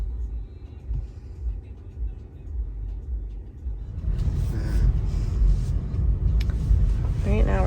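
Inside a moving Tesla car on a road, a low rumble of tires and road noise gradually grows louder as it picks up speed, with people talking quietly over it.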